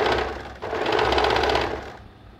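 A sewing machine stitching a nightgown seam with a half-inch margin runs in one loud, continuous, fast rattling burst, then slows and stops near the end.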